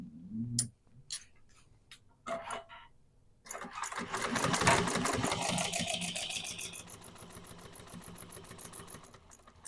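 A sewing machine bastes and top stitches a duffel bag, first in a few short starts with brief clicks, then in a long continuous close whirring run.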